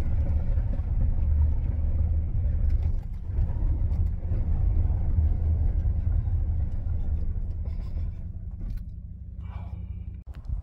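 A vehicle towing a trailer without trailer brakes strains up a hill, its engine giving a heavy, steady low rumble that stays close and loud before easing slightly near the end.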